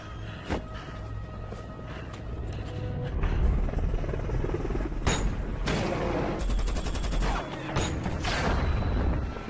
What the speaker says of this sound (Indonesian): Heli itu pun menghujani mereka dengan tembakan dan Donnie pun tewas